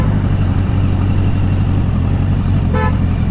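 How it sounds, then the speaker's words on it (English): A car horn gives one short beep near the end, heard over the steady low hum of idling engines and road traffic while a big motorbike filters through slow-moving vehicles. "Beeping the fucking horn."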